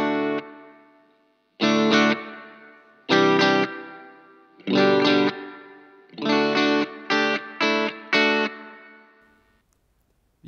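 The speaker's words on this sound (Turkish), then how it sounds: "Reverb kısmı da aynen şu şekilde duyuluyor arkadaşlar." Electric guitar played through a Roland Cube Lite amplifier with spring reverb engaged: a series of strummed chords in bursts, each ringing out with a washy, echoing reverb tail, loud and alone with no talk.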